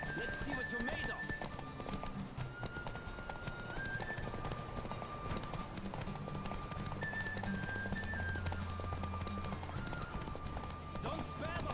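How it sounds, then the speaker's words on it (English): Rhythmic hoofbeats of a galloping horse with a brief whinny, set under steady background music and game ambience in The Witcher 3: Wild Hunt. "Don't spare the horse!"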